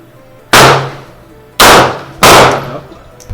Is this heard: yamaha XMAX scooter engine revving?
no